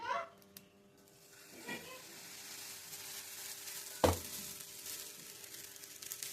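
A coriander dosa cooking on a hot pan gives a soft, steady sizzle throughout, with a sharp clatter of utensil contact near the middle.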